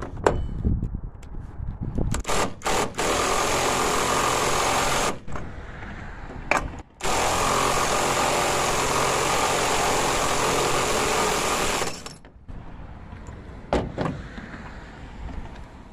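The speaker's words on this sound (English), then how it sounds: "We'll put it on the impact gun." An impact gun spins a 1 13/16 nut off a spring-loaded assembly during maintenance on a 40 series driver, sounding as two long, loud, steady whirring bursts with short clanks and rattles before, between and after.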